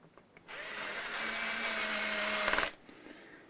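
Power drill on a low torque setting while setting up a Fender MIM Precision Bass, one steady whirring run of about two seconds, close and alone, ending with a few clicks.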